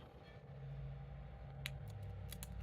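Scissors cutting up transparent stickers for a planner, a few faint crisp snips close by over a soft low background hum.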